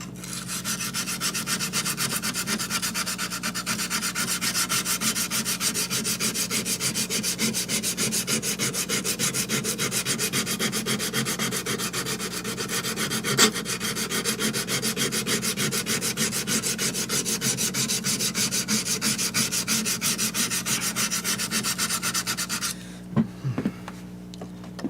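Hand sanding with sandpaper: fast, continuous back-and-forth rasping strokes, close and even, for over twenty seconds, then stopping with a couple of light knocks.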